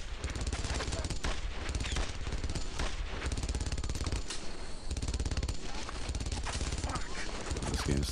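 Dense, continuous gunfire and rapid machine-gun bursts fill a battle scene in the World War II shooter Brothers in Arms: Earned in Blood, loud and unrelenting, with a player's voice shouting under the shooting.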